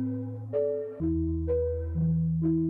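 Bell sample pattern in FL Studio played with a halftime effect, slowed and pitched down, with tonal bell notes sustaining and changing pitch roughly every half second, loud and alone.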